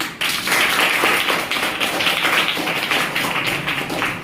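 Students clap together in a middle-school science classroom, a dense burst of close hand claps that starts abruptly and continues steadily for several seconds, with no talking over it.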